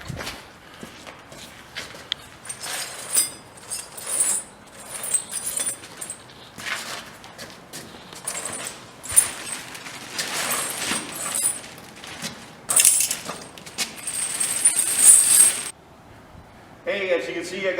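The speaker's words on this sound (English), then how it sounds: "I got the chain stretched out." Metal snow chains are dragged and stretched out on the ground beside a truck tire, with jangling clinks and scraping links and shuffling footsteps, moderately close and intermittent over about eighteen seconds.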